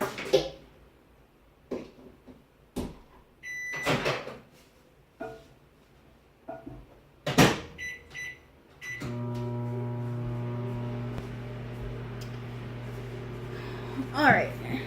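Microwave oven heating a paleo protein bar, a steady humming drone starting partway through after clicks and a beep from the door and keypad, running on for several seconds with a voice talking before it starts.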